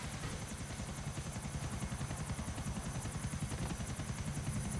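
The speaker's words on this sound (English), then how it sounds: "I'm flying the helicopter to something that's like 2 blocks down the street" A helicopter flown in Grand Theft Auto IV, with a loud, continuous rhythmic rotor chop and steady engine whine filling the scene with no pauses.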